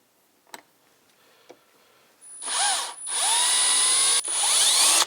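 Phillips screws being backed out of the plastic fan shroud on a Land Rover LR3 with a 4.4L V8, a few faint clicks and then loud whirring bursts of a cordless power driver, close up with no talking.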